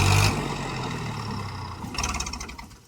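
Tractor engine idling and revving while sugarcane is loaded onto a goshala tractor in the rain, a steady mid-pitched rumble with clattering, a loud burst at the start and rising rough revving near the end.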